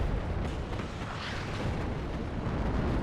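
Shots and explosions in the real-time tactics video game WARNO, a muffled rumbling barrage of booms and bursts that rolls on without pause for a few seconds, fairly quiet.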